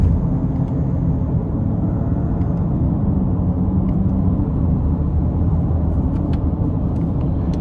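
A 2026 Nissan Rogue S accelerating, heard from inside the cabin as a steady, smooth low rumble of engine and road noise with no whine, continuous and fairly loud throughout.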